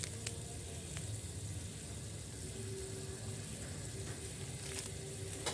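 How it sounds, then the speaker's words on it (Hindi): Spice masala for chicken biryani sizzling steadily in a pan as it is stir-fried, a continuous close hiss of frying with faint occasional scraping and no talking. "मसालों को चलाते हुए बहुत अच्छे से भून लें"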